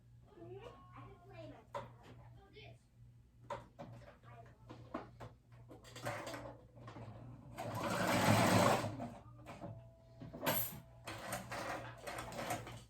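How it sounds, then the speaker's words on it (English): A sewing machine runs a zigzag stitch along a seam allowance, whirring in short bursts that swell into a longer, louder run, close by, with a person talking quietly between stretches. "I zigzag stitch it onto the seam, just the seam allowance."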